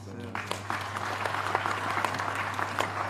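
Audience applause at a university convocation ceremony, a sustained patter of many hands clapping in a large hall with a steady electrical hum beneath and a voice briefly audible at the start.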